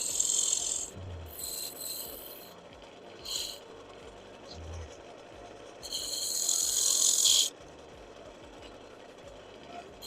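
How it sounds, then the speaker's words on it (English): On a woodturning lathe, a skew chisel held as a negative rake scraper cleans up a squared wood wall, giving several harsh, hissing scraping bursts of different lengths over a low background hum. "I'm going to use my skew as a negative reg scraper to clean up where I had to square that wall up"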